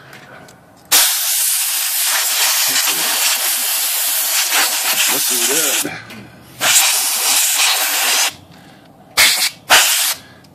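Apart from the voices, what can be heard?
compressed air blowing dust off vintage Smith Corona electric typewriter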